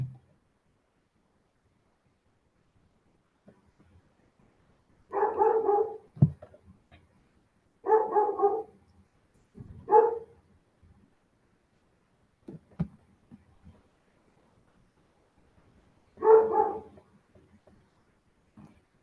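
A dog barks in short gruff volleys, four bursts spaced several seconds apart with quieter whimpers and yips between them, moderately close in a quiet room.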